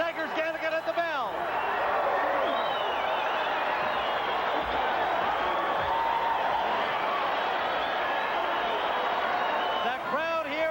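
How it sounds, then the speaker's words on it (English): Boxing crowd at the Aladdin Hotel roaring steadily after a big third-round knockdown in a world lightweight title fight, a dense sustained cheer with a commentator's voice talking over it throughout. "The crowd here at the Aladdin Hotel on their feet."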